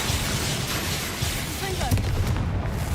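Bombarda spell explosion in Hogwarts Legacy, a loud booming burst amid ongoing battle noise and rumble, with a sharp crack near the middle.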